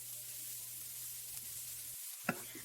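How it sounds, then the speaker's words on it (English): Chopped tomatoes fry in oil over low heat in a pan, a faint, even sizzle running throughout, broken by one brief louder stirring clack near the end. "Add chopped tomatoes, fry them in low heat."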